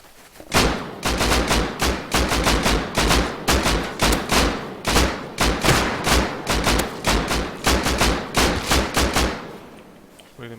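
Video game gunfire in a raid match: a rapid series of about twenty loud, evenly spaced shots in steady rhythm, close and punchy, ending abruptly near the tenth second.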